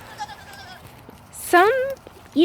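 One of three pet goats gives a loud, close bleat with a wavering pitch lasting about half a second, and a second bleat starts just as the clip ends, over quiet background.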